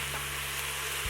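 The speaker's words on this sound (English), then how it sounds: "Heating up the red pepper flakes is going to waken that up a little bit" Vegetables with a couple of pinches of red pepper flakes sizzling in a hot pan, a brief, steady frying hiss heard close up with no voices.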